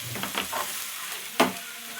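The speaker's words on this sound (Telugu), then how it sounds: "ఇప్పుడు మంచిగా చిన్న మూత పెట్టి గిన్నె గట్టిగా పట్టుకొని మంచిగా కలపాలి." Tomato chutney is stirred and shaken in a small covered pan held firmly, a soft sizzling with a few scraping strokes, then one sharp clatter of the lid and pan before the frying hiss settles again.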